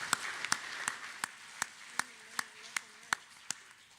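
Slow, evenly spaced claps ring out about every half second at an admitted students day event, thin and sparse like only a few hands, with a faint voice murmuring underneath partway through.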